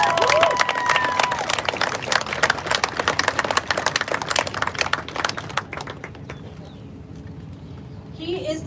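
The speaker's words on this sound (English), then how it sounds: "Let's go ahead and give a round of applause for that." Crowd applause at an outdoor downtown protest in Bedford, Indiana, follows a speaker's introduction. The clapping is steady and moderately loud for several seconds, with birdsong and open-air ambience around it, then fades.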